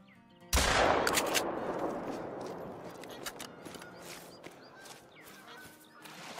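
A single loud, close gunshot in theHunter: Call of the Wild, fired at a diamond capercaillie, cracking sharply and then fading into a long echoing tail, followed by faint outdoor ambience and a few light clicks.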